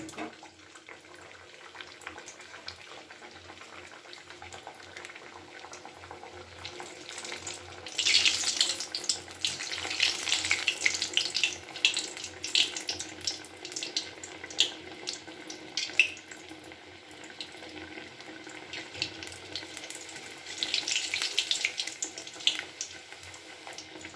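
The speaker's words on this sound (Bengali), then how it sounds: "লুচিগুলোকে আমি এই খুন্তি দিয়ে তুলে তুলে তেলের মধ্যে দিয়ে দিলাম" Masala sabudana luchi are deep-frying in hot oil, giving a continuous watery hiss and bubbling. The hiss swells loudly as pieces go in and fades back to a softer simmer, with no talking.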